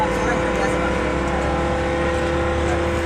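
Riding aboard a bus on a jammed road, a steady loud engine drone and rumble fills the cabin throughout, with a faint constant tonal whine and no break in the noise.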